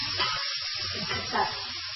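Chicken jalfrezi sizzles steadily in a hot pan with ketchup being stirred in, a constant close frying hiss with soft scraping movements underneath.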